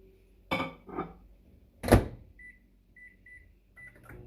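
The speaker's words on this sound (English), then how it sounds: "put it into our microwave, which I have right here, for about a minute" A microwave door clunks shut, keypad beeps chirp several times, and the oven starts cooking a cookie for about a minute with a faint low hum underneath.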